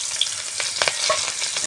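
Sliced onions are added to hot oil in a wok, where a fish was fried just before, crackling and sizzling up close with a few scraping stirs, no talking.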